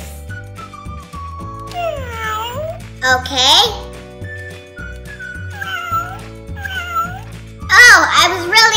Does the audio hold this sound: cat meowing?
yes